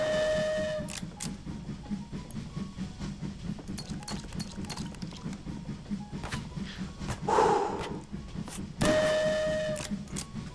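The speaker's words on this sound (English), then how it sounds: "There's the train whistle." A steam train whistle sounds in the VR game Hot Dogs, Horseshoes & Hand Grenades, with short whistle blasts over a rumbling, clattering ride and sharp metallic clicks.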